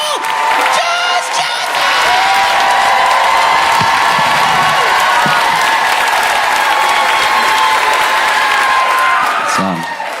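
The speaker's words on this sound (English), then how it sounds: "Put your hands together. Start clapping right now for the incomparable Josh" A comedy show crowd applauds, cheers and whoops for a comedian walking on, a loud, sustained roar of clapping and shouting that holds steady for about ten seconds before easing off.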